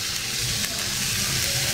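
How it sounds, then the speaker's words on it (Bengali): Leftover cooked rice fries in a pan with soy sauce, giving off a steady, moderately loud sizzling hiss that carries evenly throughout. "তো এভাবে আমি 3 থেকে 4 মিনিট বেজে নিচ্ছি।"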